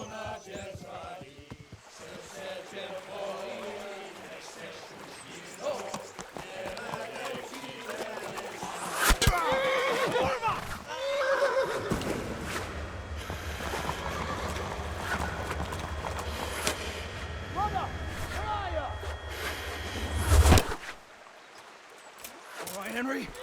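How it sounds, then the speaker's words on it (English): Horse in the medieval role-playing game Kingdom Come: Deliverance, with hooves clip-clopping near a riverbank and a brief whinny, heard under game voices and music. "That's the horse!"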